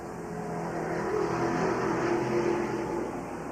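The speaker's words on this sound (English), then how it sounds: "Super racing action in the late model sportsman division." Late model sportsman division race cars circle a track in a 1995 cable race, their engines forming a loud, steady roar that swells slightly in the middle as the cars pass close.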